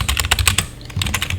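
Rapid computer keyboard typing of Python Tkinter code, a close, loud run of clicky keystrokes in quick rhythm with a brief pause midway, no voices.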